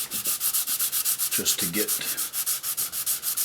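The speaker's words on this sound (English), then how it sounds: "Sanding the tops down" A foam sanding pad wet-sands the body of a Peavey Patriot guitar with fast, even back-and-forth strokes, a close rhythmic rasping repeated about twenty times, with a brief voice in the middle.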